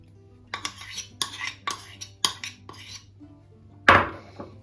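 The back of a metal spoon spreads melted butter over flattened bread dough in a baking tray, giving a series of soft scrapes and taps with one louder clink of metal near the end.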